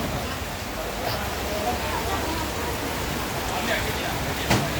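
Steady rain falls on a rainy day in Guangzhou, a constant broadband hiss of drops on surfaces with a faint sharper patter near the end.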